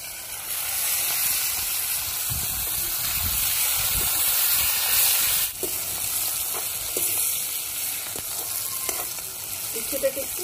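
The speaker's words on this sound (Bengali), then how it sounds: "তেলটা গরম হয়ে গেছে, হলুদ লবণ মাখানো উচ্ছেটা ভেজে নেব" Bitter gourd coated in turmeric and salt fries in hot oil, giving a steady, close sizzle throughout with occasional soft stirring knocks.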